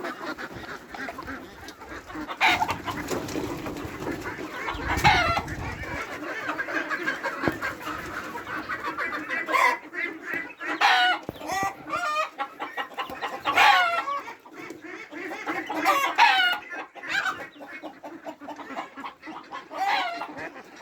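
Machine-hatched farm chickens in a coop in Saudi Arabia cluck and squawk continuously at close range, a busy overlapping flock chatter with louder bursts throughout.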